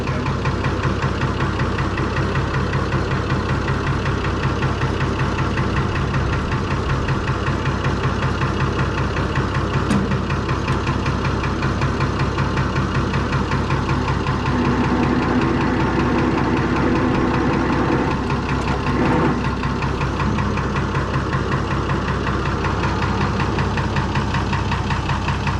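A Perkins straight-six diesel in a Fordson Major tractor idles steadily, a loud, close, continuous low chugging rumble with a faint knock and no break.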